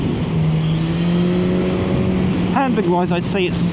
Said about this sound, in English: Lovely noise from that exhaust though.